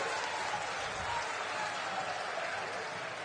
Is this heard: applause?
yes